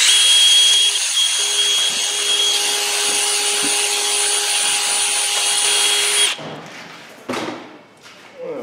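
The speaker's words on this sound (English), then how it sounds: "we got three to drill over here" A power drill drilling out a seized wheel stud whines steadily at high pitch for about six seconds, then stops, followed by a few clunks and scraping sounds.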